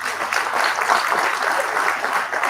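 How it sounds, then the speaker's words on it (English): Steady applause from the audience at an SBI annual general meeting, a dense, continuous round of clapping throughout. "So big clap for this SBI."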